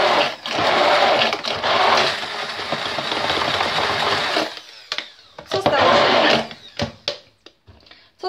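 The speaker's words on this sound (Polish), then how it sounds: "blenderuję daktyle." A kitchen blender whirs loudly as it blends dates for a sugar-free vegan chocolate cake, running in two long bursts and then several short pulses with gaps between them.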